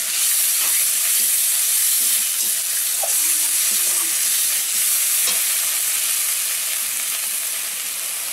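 A spice paste of ground chili and salt sizzling in a pan, a loud, steady hiss with soft stirring knocks underneath, close by and unbroken throughout.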